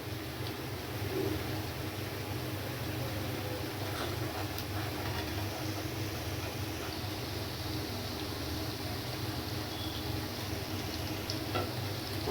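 Sabudana vadas fry in hot oil for crispy, browning fritters, a steady soft sizzle and bubbling that stays even and close throughout, with no talking.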